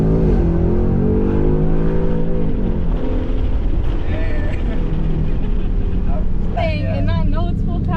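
A 2020 Mustang GT with its 5.0 engine revs loud and close, the pitch climbing and dropping as it accelerates on a street, while people talk over the engine throughout.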